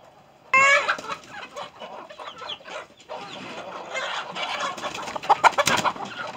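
Free-range farm chickens cluck and squawk in a busy, irregular chatter, close by and fairly clear, with a few sharper calls standing out near the end.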